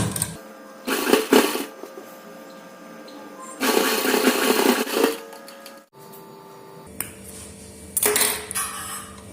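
A sewing machine stitches lace onto the neckline of a suit, running in short bursts of rapid mechanical clatter separated by pauses of quieter handling.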